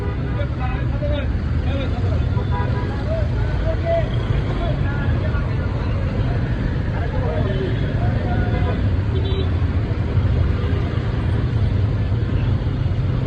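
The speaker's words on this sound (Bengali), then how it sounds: "এই জায়গাটা তো অনেক জ্যাম লেগে গেছে পুরো" Congested road traffic in rain near Dhaka airport, a steady dense wash of engines and rumbling vehicles with a continuous babble of voices mixed throughout.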